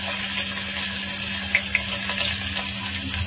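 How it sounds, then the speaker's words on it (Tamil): Two sliced onions hiss and sizzle in hot oil for a mutton kulambu, a loud, even frying sound with a few small pops near the end. "இதில் நம்ம ஒரு 2 வெங்காயம் நல்லா ஸ்லைஸாக ஆட் பண்ணிக்கலாம்."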